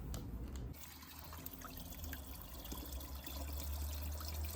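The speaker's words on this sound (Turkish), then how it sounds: "Yine çeşmeye geldik. Ama su bu sefer bayağı azalmış gözüküyor." Water trickles and splashes from a public fountain with a reduced flow, a steady close liquid patter running throughout.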